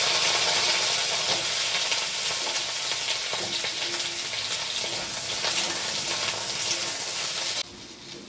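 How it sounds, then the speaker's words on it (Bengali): Eggplant and pumpkin pieces fry in hot mustard oil in a kadai, giving a loud, continuous close sizzle and crackle that drops suddenly to a quieter hiss near the end, with no voices. "আবারও ওই তেলে দিয়ে দিচ্ছি বেগুন আর মিষ্টি কুমড়ো।"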